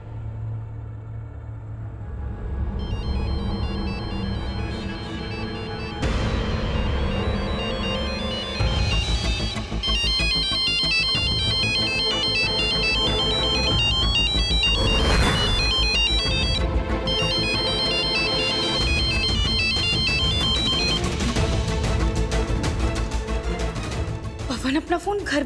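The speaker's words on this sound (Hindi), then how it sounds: "पवन को फोन लगाती हूँ।" A phone ringtone plays continuously and loudly, a bright repeating electronic melody with a low rumble underneath throughout.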